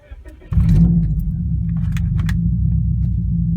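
A Subaru Outback XT fitted with a COBB Accessport tuner cranks and catches after a brief rattle, then settles into a steady, smooth low idle rumble with faint clicks.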